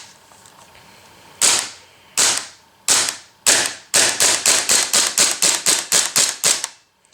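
A Marushin M1 Carbine CO2 gas blowback airsoft gun fires about fifteen sharp, close, loud cracks, first four spaced singly, then a rapid evenly paced string, ending abruptly.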